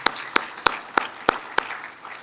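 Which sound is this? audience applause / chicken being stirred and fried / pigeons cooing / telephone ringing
audience applause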